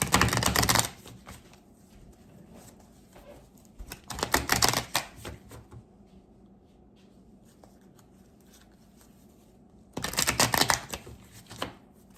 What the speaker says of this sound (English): Bear with me, I'm going to shuffle.